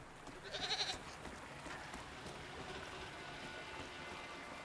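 Goat-like creatures in the video game Season: A Letter to the Future give one short bleat early on, then soft ambient outdoor sound continues alone.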